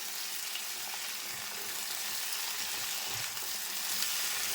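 Mixed vegetables, including pumpkin, frying in a pan with a continuous, even hiss of sizzling oil, close and steady throughout the short stretch, without talk or distinct stirring.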